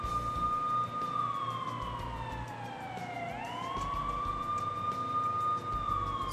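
Ambulance siren in the video game SimCity 4, a steady wailing tone that sweeps down and back up once, sounding continuously and fairly loud over a low background hum.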